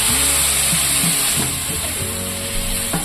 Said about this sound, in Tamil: புளியும் தக்காளியும் சேர்த்து அதை சேர்த்துக்கிறோம்